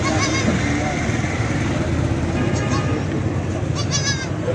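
A goat bleats amid the steady din of a busy Faisalabad livestock market, with people talking throughout and traffic noise underneath.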